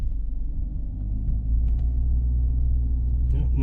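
Car on Toyo Celsius all-weather tires pulling away from a stop partway up a hill under light throttle, a low engine rumble swelling gently as it moves off, with a faint click near the end.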